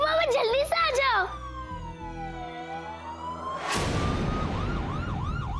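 An ambulance siren wails in a Hindi TV drama scene, its rising and falling tone running steadily through the clip, loud and close over a busy background with voices and traffic.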